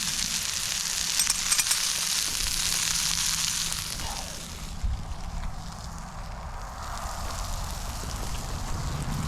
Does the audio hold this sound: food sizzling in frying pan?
yes